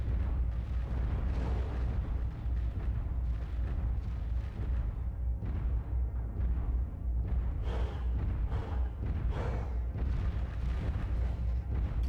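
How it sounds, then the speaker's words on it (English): Explosions and heavy booms from combat in the mech video game MechWarrior 5: Mercenaries, including an ammunition explosion, form a loud, dense barrage of repeated blasts and rumbling impacts throughout, with no talking. "Ammo explosion."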